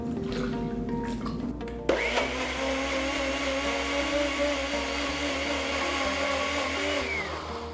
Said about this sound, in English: Now in a blender I'm gonna put mango,